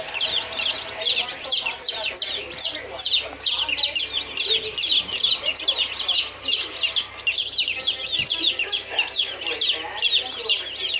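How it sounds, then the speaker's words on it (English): Day-old baby chickens, including Silver Laced Wyandottes, Barred Rocks, Buff Rocks and Reds, chirp in a feeding frenzy: a dense, continuous chorus of high, rapid peeps close by. "So this is what little baby chickens, there they are, having a feeding frenzy."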